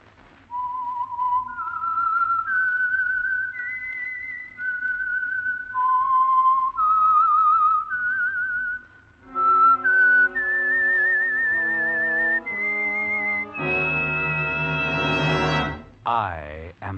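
A whistled signature melody for the Signal Oil radio program The Whistler, a clear lone whistler tracing a slow eerie tune, joined near the end by a fuller orchestral swell, close and prominent.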